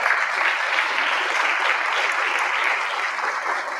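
At an annual Dr. Martin Luther King Jr. celebration, an audience claps loudly and continuously, a dense, unbroken wash of applause filling the whole stretch without pause.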